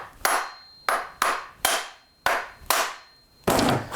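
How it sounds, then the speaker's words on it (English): A brass hammer taps a vintage Remington PL-4 chainsaw held in the hands, six sharp metallic knocks at an uneven, unhurried pace, each ringing off briefly, close and alone. "I'm using a brass hammer. And what I'll do here is just hold the saw in my hands"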